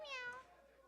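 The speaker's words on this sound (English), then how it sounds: "But the meow that you added." A short, high meow from a prowler cat in a video game rings out alone, quick and fairly faint.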